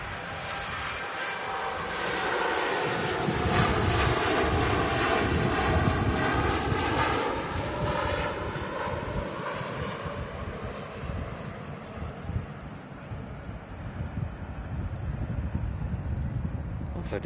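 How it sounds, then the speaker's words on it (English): A TUI Boeing 787-8 Dreamliner takes off from Manchester Airport, its engines a loud, steady roar that swells and holds, then eases slightly as the jet climbs away. Faint voices mix in with the engine noise. "Looks like the gear's going up nicely there. Heading off to Montego Bay. The TUI Dreamliner 787-8."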